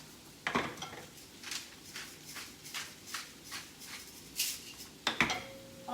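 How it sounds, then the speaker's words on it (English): A lid set on a simmering pot of jalapeño and mayhaw mixture: a sharp metallic clank near the start and another near the end, with soft rhythmic bubbling and stirring scrapes between them. "I think I'm going to add a lid"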